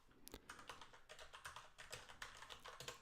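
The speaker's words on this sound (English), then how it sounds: "Can I type my password?" Rapid, steady tapping of keys as a password is entered on a computer keyboard, soft and close, with a few sharper clicks and no talking.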